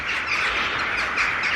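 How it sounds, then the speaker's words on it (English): A dense chorus of many birds chirps and calls continuously around a nesting area at a campsite, loud and close, with no talking. "There's a lot of fucking birds around here."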